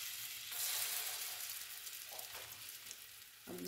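Aloo tikki coated in flour sizzles in hot oil, a soft, steady hiss with a brighter burst as a patty goes in, faint and close with no talk.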